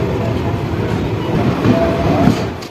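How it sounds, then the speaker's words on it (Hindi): A Danapur–Jogbani Intercity Express rolls into Raghopur railway station in Bihar, heard from inside a sleeper coach: a steady, loud low rumble of wheels and carriages with faint clatter, swelling slightly toward the end. "तो फिलहाल ट्रेन हमारी अराइवल हो रही है राघोपुर रेलवे स्टेशन पर।"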